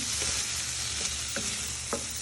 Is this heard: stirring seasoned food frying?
yes